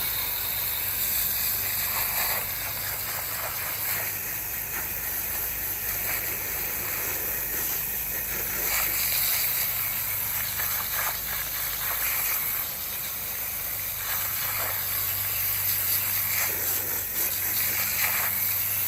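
A hose sprays water hard against a nest box to blast it clean, a steady loud hissing rush with mechanical rattling and brief surges, running continuously with no talking.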